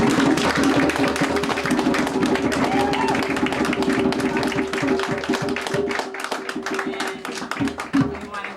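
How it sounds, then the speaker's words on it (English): Audience applause at a graduation ceremony, dense rhythmic clapping throughout, loud and close, with a steady drum or tone underneath and fading toward the end. "I want you guys to give Nteri a round of applause"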